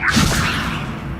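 A Levioso spell cast in Hogwarts Legacy, heard as a brief bright magical whoosh with a shimmering swell that fades quickly over about a second.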